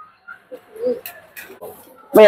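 Baghdadi and racer pigeons cooing in a loft, soft low coos scattered through the clip with a louder burst at the end, while someone talks nearby.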